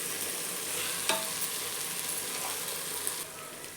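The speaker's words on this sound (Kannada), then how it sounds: "ಇದು ಸ್ವಲ್ಪ ಫ್ರೈ ಆಗಬೇಕು. ಈ ಮಸಾಲೆದಲ್ಲಿ ಚೆನ್ನಾಗಿ ಬೇಯಬೇಕು." Masala frying for crab biryani gives a steady, close sizzle with stirring scrapes throughout, one sharper clink near the middle, and no voices.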